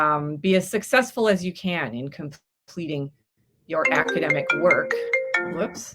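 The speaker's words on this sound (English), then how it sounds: "That was my phone." A mobile phone rings during a live virtual open-house talk, a bright tonal ringtone cutting in right after a person finishes speaking and chiming repeatedly for about two seconds.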